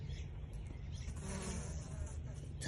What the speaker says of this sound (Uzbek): Mana shu asalari